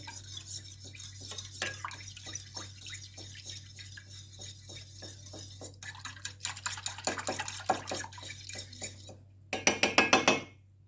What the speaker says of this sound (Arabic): ونحاولوا نحركوه هكا مزيان